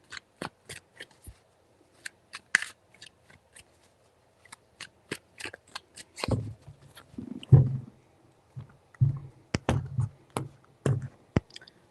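Tarot cards are shuffled in a quiet room, with scattered crisp flicks and taps early on and then denser bursts of riffling and slapping toward the end, close and fairly loud, with no talking.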